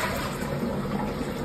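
A Kohler toilet flushes after its flush button has been replaced, a steady close rush of draining and refilling water that holds at an even level throughout.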